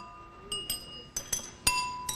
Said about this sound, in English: I can take a glass rod and tap on